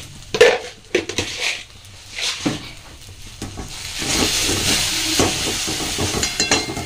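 A spoon scrapes and clanks in a pan while stirring a pea filling for kochuri, metallic knocks early on, then a steady hiss and sizzle of cooking underneath.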